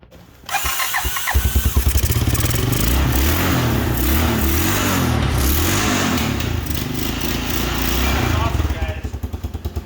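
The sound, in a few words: homemade snowmobile engine with new carburetor starting and revving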